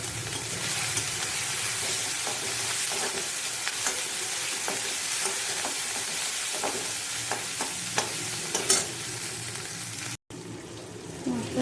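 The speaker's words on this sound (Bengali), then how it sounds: "মশলাটা ভাজা ভাজা হয়ে গেছে" Ground spice paste frying in a pan while making an old-style taro and chickpea curry, a steady close sizzle with scraping stir strokes throughout, briefly cutting out near the end.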